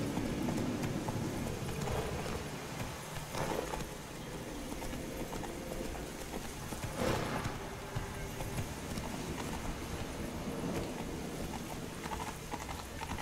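A horse gallops in the video game Witcher 3, a fast, continuous clatter of hooves mixed into dense game ambience and rumble, with no clear pauses.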